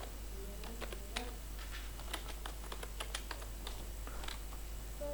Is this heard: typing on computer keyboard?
yes